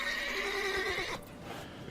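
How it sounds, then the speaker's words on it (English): A horse in The Witcher 3: Wild Hunt video game gives a loud, clear whinny that falls away midway, followed by a few soft hoof clops and quiet ambience. "Luckily, Geralt can always count on his horse, Roach, to help him in his travels."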